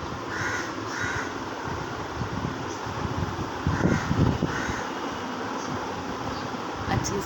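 Crows caw outdoors in the morning, a handful of harsh calls spaced apart at moderate distance over a steady background hum of wind or fan.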